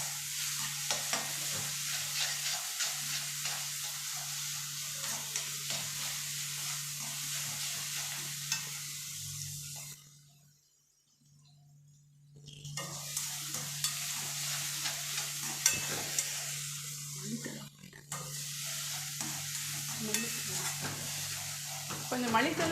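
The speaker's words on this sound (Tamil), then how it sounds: "இப்போ நம்ம வெங்காயம் போட்டதுக்கப்புறம் இஞ்சி பூண்டு விழுது போட்டுக்கலாம்." Onions and ginger garlic paste fry in oil for a chicken gravy, giving a steady sizzle with stirring scrapes. The sizzle drops out briefly midway and then returns at the same level.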